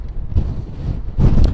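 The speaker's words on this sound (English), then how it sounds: "we can sure hear those winds." Strong gusts buffet an outdoor microphone at a wildfire scene, giving a loud, rumbling low roar that surges near the start and again toward the end.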